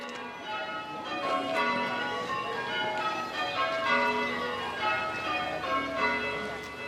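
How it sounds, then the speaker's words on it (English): Village church bells ring for a victory celebration, several bells sounding overlapping strikes in a steady, clanging pattern with rich ringing overtones that sustain throughout. "bells were rung in all the village churches to celebrate the victory in Europe."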